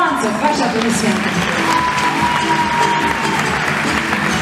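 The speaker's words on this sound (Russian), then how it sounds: "Искандер Урманцев, ваши аплодисменты" Festival-closing crowd at a film festival ceremony in Ufa, a loud continuous wash of applause with music playing underneath and an amplified voice speaking over it.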